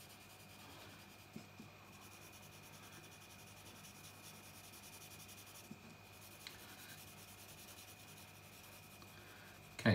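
A pencil pressed hard against paper scratches steadily while drawing, a faint continuous rubbing with a few small taps, close and alone.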